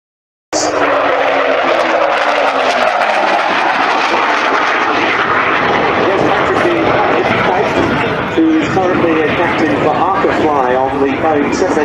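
Hawker Hunter jet flying a display at an airshow for the Dutch Hunter Foundation, a loud continuous engine roar that sweeps and shifts in pitch as it passes, with crowd chatter in the background.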